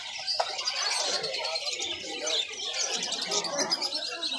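Dense, steady chirping and cooing of many birds, including chickens and wild fowl kept in cages for sale at a busy Iranian-style market in Doha, heard close throughout with no talk.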